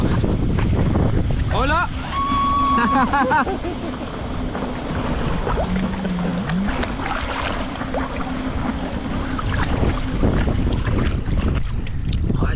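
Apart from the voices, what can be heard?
jet skis speeding past on water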